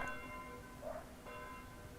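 Church bells ringing at a distance, faint and muffled under an indoor hum, one soft chime rising and fading within the moment.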